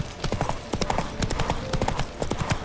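Rapid video game hoofbeats from The Witcher 3, clip-clopping in a quick, even galloping rhythm, sharp and fairly close, with faint background noise.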